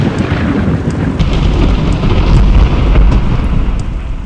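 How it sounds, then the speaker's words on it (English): Thunderstorm ambience in the video game Morrowind: loud, continuous rumbling thunder and rain roar, swelling slightly toward the middle, with no voices. "Storm noises in the background that aren't really scary at all because the storms don't really do anything in this game"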